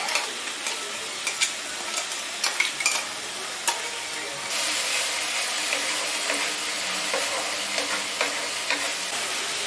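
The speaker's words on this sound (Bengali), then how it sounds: "এবার এই লঙ্কা বাটাটা আমি দিয়ে দিচ্ছি।" Green chilli paste hitting a hot pan for village-style katla fish rezala, a loud continuous sizzle with scraping stir clicks throughout, the frying growing denser partway through.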